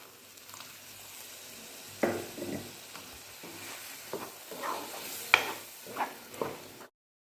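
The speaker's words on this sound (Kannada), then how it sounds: "ಇವಾಗ ಸ್ವಲ್ಪ ಮಸಾಲೆ ನೀರನ್ನು ಸೇರಿಸ್ಕೊಳ್ಳೋಣ" Pomfret green masala in a pan sizzles as masala water is added and stirred, with a steady frying hiss broken by louder bursts of sizzle and scraping stirs, close up with no talking.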